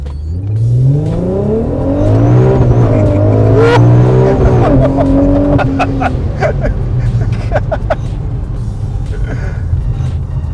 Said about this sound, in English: Beauty of all-wheel drive, you just basically slow down to a stop and take off.